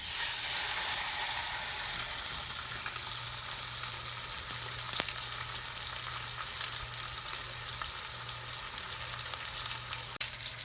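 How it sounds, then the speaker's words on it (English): Boneless pork loin sears fat side down in hot olive oil, a steady broadband sizzle and crackle running unbroken at even loudness throughout, with a low steady hum underneath and no talk. "you're going to put it down in the hot olive oil and sear every side of the meat"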